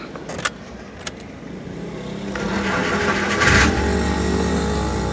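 A Suzuki Grand Vitara engine is cranked and starts after some faint key clicks, rising into a steady mid-pitched idle that stays loud and constant near the listener with no one talking.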